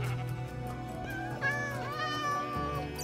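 Cats meowing in the video game Minecraft with a high-resolution animal resource pack, several plaintive tonal mews rising and falling over a steady musical background, clear and fairly close.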